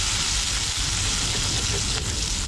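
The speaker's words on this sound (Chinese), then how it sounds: "这种鱼稍微煎一下就可以了" Fish frying in hot oil inside a small camper van in a windy Xinjiang winter, a loud, continuous close-up sizzle with a brief stir or shift near the end.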